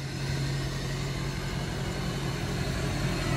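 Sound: Hummer H1 Duramax diesel with Predator custom exhaust idling

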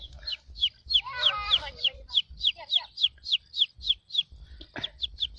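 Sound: voice imitating a chick peeping

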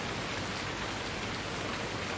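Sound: rain in video game Farming Simulator 19

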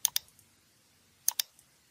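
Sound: computer mouse clicking OK in software dialog box

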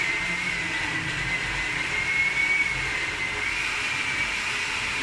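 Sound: blender blending green mole sauce

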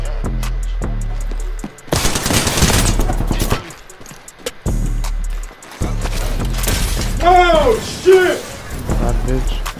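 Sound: gunfire in the video game Apex Legends

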